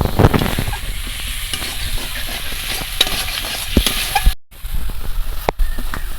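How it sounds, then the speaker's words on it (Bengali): Spice masala with ginger paste and salt for a chicken liver curry is stir-fried in a pan: a steady close sizzle runs throughout, broken by sharp scrapes of the stirring spoon and one brief drop-out. "এবার ভালো করে একদম কষিয়ে নেব"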